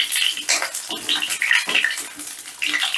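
Pointed gourds (potol) tossed into hot oil, a loud, busy crackle and spatter of frying with bursts of hissing and a few clinks of a utensil against the pan.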